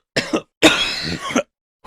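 A man coughs in a rough, throaty burst, two quick hacks followed by a longer raspy fit, close and loud with brief silences between.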